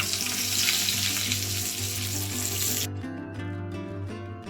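Pea-stuffed kachori fry in hot, darkened oil with a loud, dense sizzle that cuts off abruptly partway through, leaving faint kitchen clatter and low background hum.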